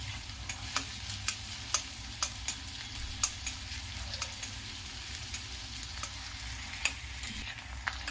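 Steady sizzle of onions frying in a pan, with a spoon scraping and stirring in regular clicks about twice a second, close by and moderately loud.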